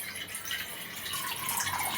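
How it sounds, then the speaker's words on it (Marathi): Water pours steadily into a pot on a lit gas stove as Maggi noodles are made, a close, continuous splashing rush that builds slightly over about two seconds, with no talking. "आता मी टाकणार आहे पाणी. तर मी पाणी टाकते."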